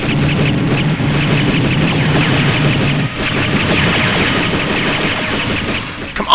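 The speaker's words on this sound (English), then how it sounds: "And there goes all my missiles." A rapid, loud barrage of missiles fires in the Robotech Battlecry video game, dense repeated bursts of launch blasts in a continuous flurry with no voices over it.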